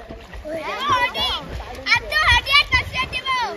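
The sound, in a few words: splashing water as people swim in a river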